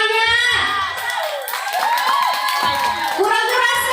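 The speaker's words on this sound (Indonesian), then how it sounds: "Beri tepuk tangannya." An audience at an Indonesian Isra Mi'raj speech competition cheers loudly, with children's shouts and whoops over scattered clapping, sustained throughout at close range.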